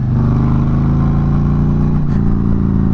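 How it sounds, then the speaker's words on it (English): A Harley motorcycle engine revs loud and close to 4,000 RPM with a steady, rumbling drone that holds through the whole clip. "Let me rev it up."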